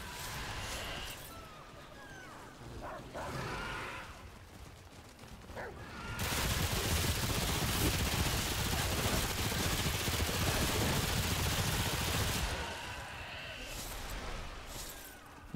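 Sustained rapid gunfire in the video game Remnant 2, fired with infinite ammo, forms a dense continuous burst lasting several seconds between quieter stretches, moderately loud.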